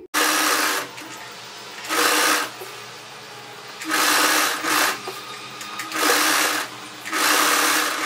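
A sewing machine stitches a second line over an existing seam on plain fabric, running in several loud bursts of fast whirring with short quiet pauses between them, close up.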